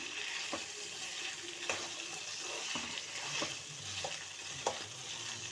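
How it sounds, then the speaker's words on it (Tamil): Cut ivy gourd fries in hot oil with a steady, fairly faint sizzle, broken by a few light taps and scrapes of stirring. "எண்ணெயிலேயே நல்லா வதங்கி வர அளவுக்கு நம்ம வறுத்து விட்டுக்கலாம்"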